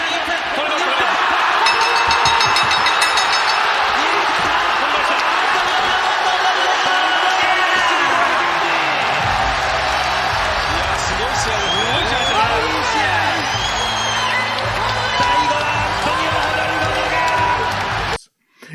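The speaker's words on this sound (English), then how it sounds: "The crowd shows their appreciation for that amazing hard-fought battle" A large arena crowd roars, cheers and applauds after an armbar submission win at a Pride Fighting Championships event, a loud sustained ovation with whoops, while an announcer talks over it.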